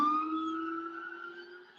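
An ambulance siren passes outside a home on a Sunday morning in Duluth, Gwinnett County, a steady wailing tone that slowly fades as it moves off, heard alone.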